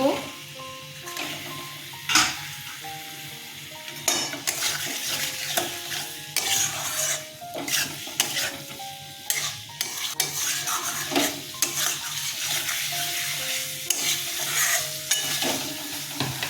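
Potatoes and cauliflower for a cauliflower dalna being stirred and sautéed in a pan, loud repeated spatula scrapes and clatter over a continuous sizzle throughout.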